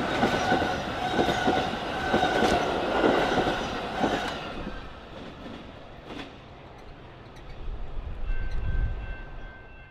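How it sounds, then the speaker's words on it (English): A BNSF Metra commuter train passes near Congress Park with a loud, close rumble and rhythmic wheel clatter, then fades to a softer trailing rumble with a thin squeal. "the next train after the 9515 was the 9403, headed for their first stop at Congress Park"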